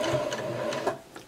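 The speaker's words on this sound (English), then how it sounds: "So when you're doing this with a sewing machine," A sewing machine stitches fabric for a sunflower sew-along project, giving a steady, fast mechanical whirr with light rhythmic clatter throughout, fairly close and without talk.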